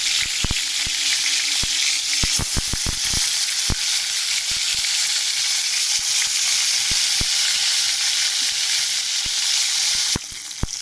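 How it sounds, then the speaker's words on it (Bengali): Tangra fish fry one by one in hot oil, a loud, continuous close sizzle with scattered sharp pops and crackles throughout. "তেলটা গরম হয়ে গেছে, আমি এক এক করে ভাজবো, ভেজে নেব।"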